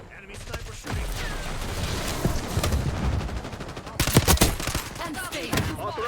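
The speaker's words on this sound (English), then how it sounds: "Enemy sniper shooting." Gunfire from an enemy sniper in Call of Duty Black Ops 6 multiplayer cracks out in sharp reports over a busy mix of game effects, with a burst of louder shots near the end.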